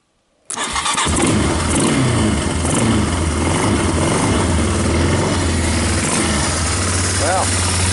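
A Yamaha Bear Tracker 250 ATV with a new intake and carburetor fires up and settles into a steady, loud idle, with someone talking over the engine.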